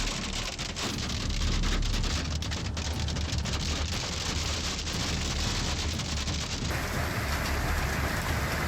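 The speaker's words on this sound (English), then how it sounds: "The icy hailstones fall as if the apocalypse is near, turning everything they touch into a pile of rubble." Hailstones pelt down in a dense, continuous roar during a hailstorm, a loud steady hiss of impacts with no pauses.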